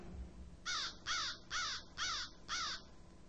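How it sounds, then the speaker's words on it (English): A crow caws five times in a steady, evenly spaced series, loud and clear over faint background hum. "accompanied by the sound of crows."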